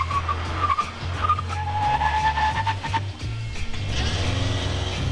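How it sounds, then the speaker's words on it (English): A diesel Nissan Titan pickup corners hard on a go-kart course, its tires skidding and squealing in drawn-out wavering tones over a steady low engine rumble, close and continuous with no talk. "I'm in a diesel Nissan Titan pickup on a go-kart course, which is so wrong, and yet so wonderful."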